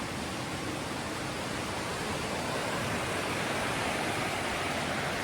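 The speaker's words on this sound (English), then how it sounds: "There are entire trees coming down the river." The Nolichucky River, flooded during Hurricane Helene in 2024 after rising sixty feet and carrying whole trees, rushes past in a constant, dense roar heard from a cliff top, unbroken and steady throughout.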